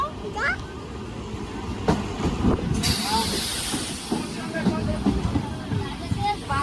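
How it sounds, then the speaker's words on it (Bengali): A train rumbles and hisses into a station, with a sharp burst of air-brake hiss midway and voices talking over the noise. "আর এই একটা ট্রেন ও একটা ট্রেন ঢুকছে"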